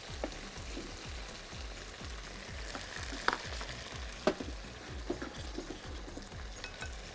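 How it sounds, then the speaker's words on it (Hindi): Chicken korma sizzling in oil with ginger garlic paste, a steady loud frying hiss with a regular rhythmic scraping from stirring and a few sharp clinks of a utensil against the pan, no talking. "अब अगेन अदरक लहसुन का पेस्ट उसी ऑयल में ऐड करेंगे और उसके बाद जो होल चिकन है कौरमे की"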